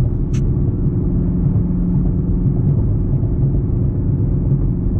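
Steady low engine drone and road rumble from inside a Nissan Z under light throttle, constant and unbroken for the whole stretch.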